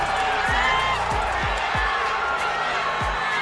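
A boxing arena crowd roars steadily after a knockout punch, a dense and loud wall of cheering, with several low thumps scattered through it.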